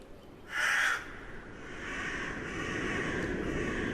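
A crow in an animated film gives a single loud, harsh caw close by, followed by a lower steady background rumble.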